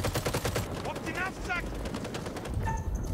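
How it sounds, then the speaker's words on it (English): Rapid bursts of automatic gunfire in the video game House of Ashes, loud and sustained across the clip, with a voice talking underneath. "We're returning fire."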